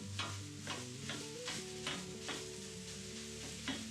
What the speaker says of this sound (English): this is really easy to break up using my really big griddle spatula